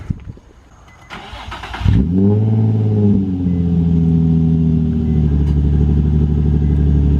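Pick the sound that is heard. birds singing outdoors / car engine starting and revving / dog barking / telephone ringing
car engine starting and revving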